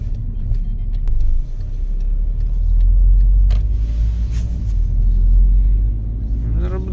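A Volkswagen Golf 6 Match 2.0 TDI diesel with DSG gearbox rumbles low and swells as it revs up, with a heavy droning hum rising and falling over several seconds, close by.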